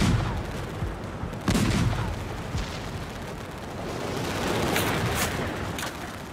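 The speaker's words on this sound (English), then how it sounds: "Soviet artillery pummeled the German positions that had just given themselves away." Soviet artillery shells German positions during the World War II battle for the Caucasus. Dull blasts and rumbling impacts sound at irregular intervals over a continuous din of battle noise.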